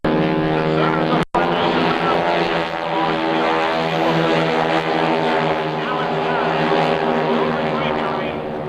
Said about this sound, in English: this is a big airplane